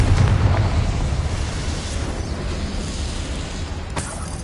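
A Confringo spell detonates in Hogwarts Legacy with a loud rumbling blast that rolls and decays over a few seconds, followed by a sharp smaller burst near the end.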